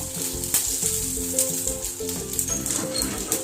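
Mustard seeds, chillies and curry leaves sizzle steadily in hot oil for a Kerala-style curry tempering, a close, continuous crackling fry with scattered pops and faint tonal music underneath.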